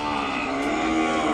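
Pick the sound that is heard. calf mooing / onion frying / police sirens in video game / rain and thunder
calf mooing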